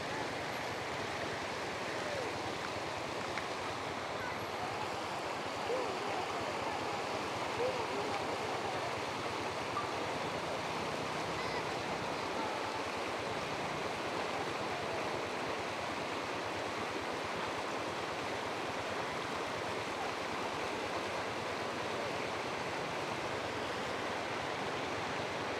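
A flowing mountain stream, a steady, full rush of water that stays even and continuous for the whole stretch, with no talking over it.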